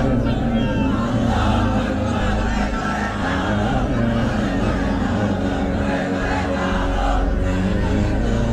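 A large crowd at an Islamic waz sermon gathering chants slogans together, a dense, loud and continuous roar of many voices with no pause.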